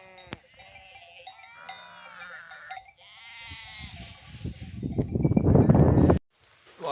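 Sheep bleat on a highland pasture, wavering calls overlapping near and far, with rustling and shuffling growing louder toward the end before a sudden stop.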